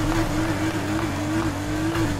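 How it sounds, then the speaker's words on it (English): A Porsche 911 RSR race car in the racing game NFS Heat: a loud, continuous engine drone that holds a steady pitch with small rises and dips, close and sustained throughout. "First up with the RSR."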